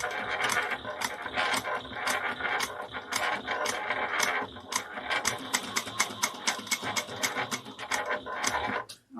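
A sewing machine back-stitching a leather espresso wallet, a steady rapid mechanical clatter of needle strokes with sharp regular ticks, close and continuous before stopping abruptly at the end.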